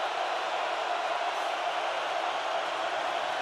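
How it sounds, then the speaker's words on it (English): Stadium crowd roaring at a Seahawks NFL football game in Seattle, a dense, steady wall of loud cheering and noise that holds without a break. "Crowd in full throat here."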